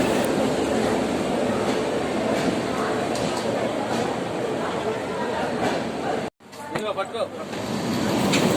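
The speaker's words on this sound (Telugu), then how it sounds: "ట్రైన్ అయితే వచ్చేసింది ఫ్రెండ్స్. ప్లాట్ఫామ్ నెంబర్ 1లోకి వచ్చింది." A train pulling into a railway station platform, a loud continuous rumble and rolling rush with some clatter, briefly cut off before resuming.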